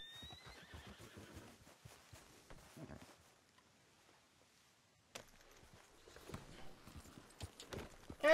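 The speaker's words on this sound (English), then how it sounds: "Come here, horsey." A horse in Red Dead Redemption 2 whinnies sharply, then its hooves clip-clop in an uneven walk, fading to near quiet before resuming with more hoof steps and rustling; a voice speaks briefly.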